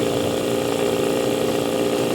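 A two-stroke outboard motor runs steadily with a constant buzzing drone, loud and close, with no change in pitch or level.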